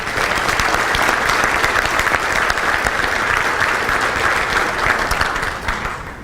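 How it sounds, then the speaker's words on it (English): Loud, dense applause from a breakfast audience at a chamber of commerce event, steady and close for several seconds before tapering slightly at the end. "Please give Larry and his staff a round of applause this morning."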